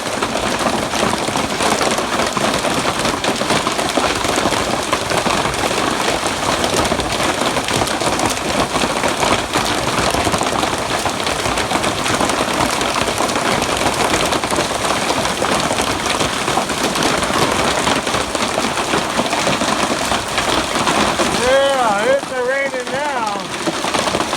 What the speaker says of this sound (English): Look at the hail bounce.